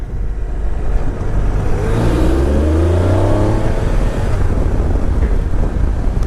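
A Triumph Trophy six-speed motorcycle is ridden on the road. A loud, steady rush of wind noise covers a rising engine drone as it accelerates, continuous and close, with no voices.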